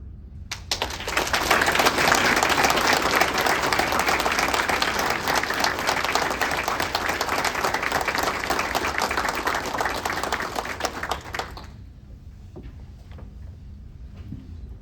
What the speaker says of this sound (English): So join me in applauding Ann Smith for unwavering dedication, service